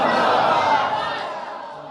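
A large crowd roars a short, loud collective shout in answer to a Naara-e-Takbir chant at a religious gathering, the voices swelling and then fading within two seconds.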